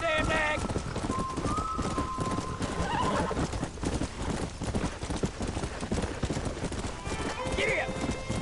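Horses in the Red Dead Redemption video game gallop with steady clip-clopping hooves and loud whinnies, a dense continuous action mix with voices shouting over it.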